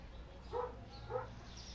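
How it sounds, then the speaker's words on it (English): A dog barks twice, faint and a little distant, with short separate barks over a quiet hum indoors. "Well, my dog is barking."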